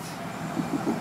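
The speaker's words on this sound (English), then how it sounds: "Train passed" An FEC freight train rolls past, a steady low rumble of rail cars with faint rhythmic thumps of wheels over the track, heard from nearby.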